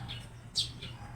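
A bird perched near a home garden of okra and eggplant gives a short, bright chirp, with a few softer calls before and after against steady low background hum.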